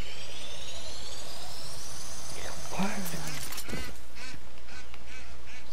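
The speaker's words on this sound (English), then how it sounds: "It's a duck!" A duck in the video game Far Cry 5 gives a couple of short honking quacks midway, over steady game background noise and a high whining tone, with a burst of clattering sounds just after.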